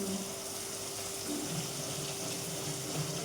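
Kitchen tap water running steadily into a sink for washing dishes, a continuous close hiss and splash with no talk over it.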